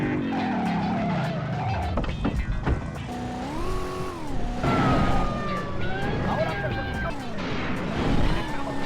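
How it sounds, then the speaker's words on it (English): Cars in the Driver 2 video game screech through drifts, tires squealing in long wavering tones over a constant engine roar, with siren-like sweeps and crash thuds mixed in at steady loudness. "The drifting and the crashing sounds in the game"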